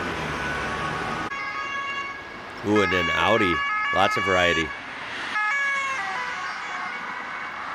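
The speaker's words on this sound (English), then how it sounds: "The cadence of that siren is really interesting to me. Much different than I'm used to." Austrian emergency vehicle siren blares loud and close, its two-tone wail sweeping up and down in a distinct cadence over steady horn-like tones, while someone talks briefly before and after.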